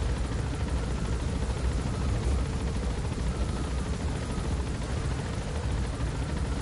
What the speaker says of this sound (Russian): мы высаживаемся на вертолете